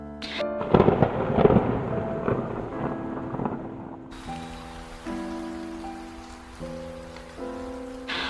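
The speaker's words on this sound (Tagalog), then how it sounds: "Kasabay noon ay ang pagbagsak ng malakas na ulan" Heavy rain falling, a steady wash of noise that swells loudest early on, with tonal hum and music-like tones continuing underneath and no speech.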